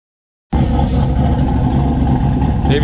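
A car engine at an asphalt small-tire race starts abruptly after a short silence, then holds a loud, close, rough rumble and rev for a couple of seconds.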